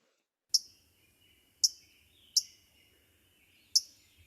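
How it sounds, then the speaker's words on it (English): A Louisiana waterthrush gives four sharp, bright chip notes spaced about a second apart against a quiet background, each note crisp and isolated. "this is the chip note of the Louisiana water thrush"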